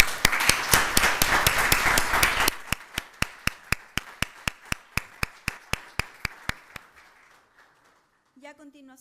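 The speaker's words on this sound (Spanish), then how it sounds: "les voy a pedir recibirlos a los dos con un fuerte aplauso" Audience applause welcoming two speakers at a conference and agreement signing, a brief burst of full clapping that thins quickly to a few slow, sharp individual claps tapering to silence before a voice begins.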